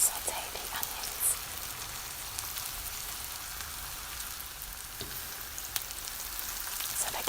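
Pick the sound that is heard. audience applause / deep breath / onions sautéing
onions sautéing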